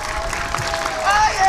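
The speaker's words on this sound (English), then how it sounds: "Let's give our MCs a round of applause." A public-access youth concert in the City of Passaic, where the audience applauds the MCs: a brief wash of dense crowd clapping, mid-distance, with a voice over it.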